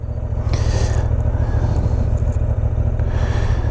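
A 2024 Honda Hornet 750 motorcycle engine, already warm from riding, idles with a steady, loud low rumble that holds throughout.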